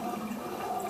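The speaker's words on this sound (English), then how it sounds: "I'm going to drain the water on my sink" Water drains from a bathroom sink after a safety razor shave, a steady gurgling rush that continues evenly throughout.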